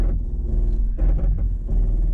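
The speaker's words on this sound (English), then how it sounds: "It uses the ABS to pulse the brakes." Low, rough grinding pulses repeat in irregular bursts under a steady vehicle rumble, loud and close, as a 2024 Toyota 4Runner's crawl control uses ABS to rapidly pulse the brakes on a muddy hill.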